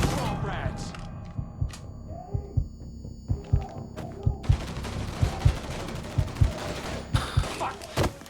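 Repeated gunshots crack out in a steady volley from a Mafia III firefight, sharp thumping reports landing roughly every half second over a busy backdrop of game noise and rising clatter.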